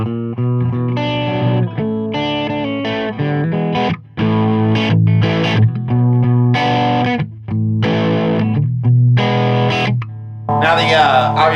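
An electric guitar runs through a Reinhardt Sentinel head into a Reinhardt 2x12 cab with vintage Marshall-style gain, playing loud, crunchy distorted chords and riffs separated by short pauses.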